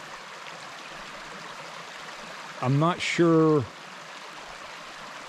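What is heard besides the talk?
water flowing in an old mill race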